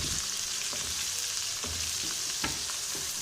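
Onions fry in hot oil for a brinjal bharta, giving off a dense, continuous sizzle with a few sharper crackles and stirring knocks, close up and without voices.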